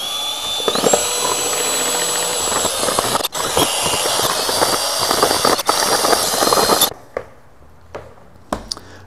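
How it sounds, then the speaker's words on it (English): A power mixer whirs loudly and continuously while blending silicone mold resin, a dense close-up motor drone with scraping texture and two brief dips, then cutting out and leaving a few light knocks and clicks. "So got my power mixer here. I'm just going to go ahead and mix these up independently."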